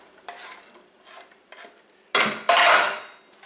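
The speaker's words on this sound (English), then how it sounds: "I've just added a little olive oil to the skillet, and then in goes the diced onion" Diced onion drops into olive oil in a hot skillet, giving a sudden loud sizzle and crackle with a brief clatter of a pan or utensil, after quieter kitchen stirring sounds.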